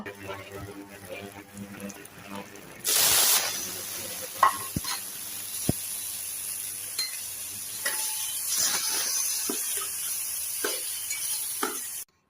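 Chopped garlic hits hot soybean oil in a pan as the base for homemade tomato sauce, a loud sizzle bursting in near three seconds and settling into steady frying crackle with a few sharp clinks of stirring.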